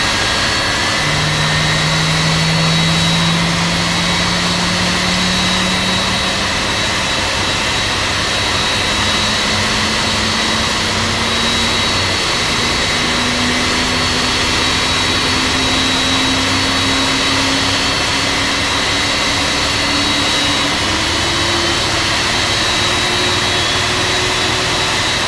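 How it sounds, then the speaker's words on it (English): A simulated Boeing 767-300 jet engine spools up in X-Plane 11, with a loud, constant roar and a whine that climbs slowly and steadily as it reaches idle. "now we let the engine start."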